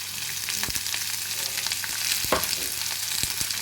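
Capsicum and cauliflower stir-fry over a high flame for a Chinese-style chilli gobi, with a steady close sizzle and sharp spatula scrapes against the pan, and no talking.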